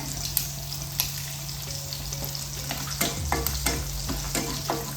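Four dried red chillies with mustard seeds fry in hot oil, a close bright sizzle with sharp pops and spatters, plus a steady low hum and brief stirring knocks, no voices.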